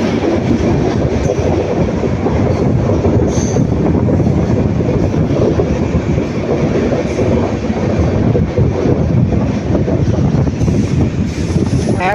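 A passenger train on the Erode to Bangalore line picks up speed, its steady loud rumble mixed with rail clatter and rolling wheel noise that carries on without a break and with no voices.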